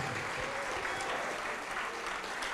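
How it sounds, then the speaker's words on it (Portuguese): Church congregation applauds at a televised worship service, a brief, steady burst of many hands clapping that fills the space without a break. "vamos aplaudir mais ao nome de Jesus"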